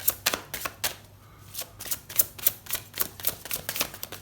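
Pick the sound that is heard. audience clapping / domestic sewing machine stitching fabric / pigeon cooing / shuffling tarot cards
shuffling tarot cards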